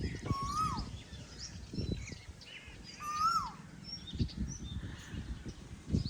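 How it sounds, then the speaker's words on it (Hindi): An Asian koel calls from a mulberry tree beside a village house in Punjab, Pakistan, with a few rising, whistled notes repeating at a moderate distance over quiet background rustling and low thumps. "तो आजकल कोयल ने यहाँ डेरे लगाए हुए हैं।"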